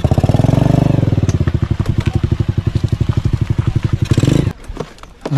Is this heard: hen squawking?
no